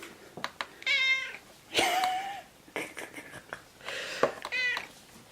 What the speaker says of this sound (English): No more cat meows for you guys